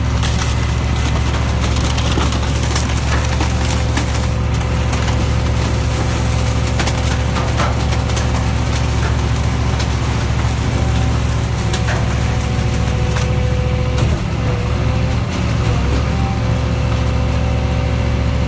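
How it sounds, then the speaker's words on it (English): A Citroen Berlingo van is crushed by a large diesel-powered crusher, with a loud continuous engine drone and grinding, creaking metal and splintering sounds throughout, close and without speech. "As that Berlingo van's being crushed down, give you a quick look around at that."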